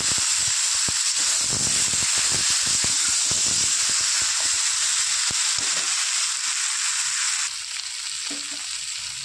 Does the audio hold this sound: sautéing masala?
yes